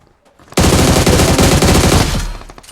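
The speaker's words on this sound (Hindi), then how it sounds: "सामने से फायरिंग आ रही होती है" Automatic gunfire bursts loudly from a shooter video game during a frontal firefight, a dense continuous rattle of rapid shots that starts abruptly and runs for about a second and a half before tapering off.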